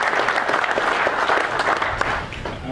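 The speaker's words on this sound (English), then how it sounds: "I'd like to give them a round of applause for 25 years" A room of members at a summer section meeting gives a round of applause for 25-year members, with even, continuous clapping from a crowd that thins slightly toward the end.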